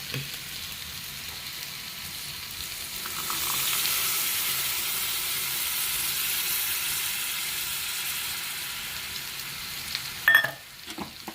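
Coconut milk goes into a pan of cooked green chillies and curry leaves for fish pollichathu. A steady close sizzle and bubbling swells as the liquid hits the pan, ending with a brief utensil clatter and no talk.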